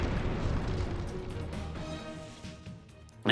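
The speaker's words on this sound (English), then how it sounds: "And then the explosion happens." Explosion blasts through a courtroom in the video game Ace Attorney Dual Destinies, a loud, sustained roaring rumble with crackling debris that slowly fades, then a sharp burst at the very end.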